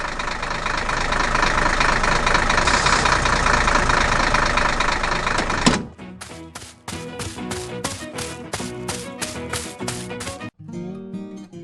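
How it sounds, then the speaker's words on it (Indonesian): A loud animated blue tractor harvesting giant watermelons roars steadily, then drops to a rhythmic, knocking idle with a rapid mechanical pulse. "Traktor sedang bekerja keras di hutan."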